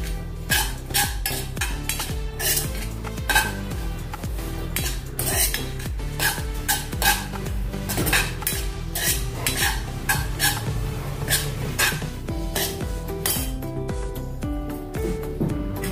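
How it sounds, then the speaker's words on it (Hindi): Dal and spices being dry-roasted in a pan for mango pickle, with a metal spoon scraping and clinking against the pan in repeated sharp strokes over a faint sizzle, no talking. "थोड़ी सी दाल को भी हमने भून लिया है।"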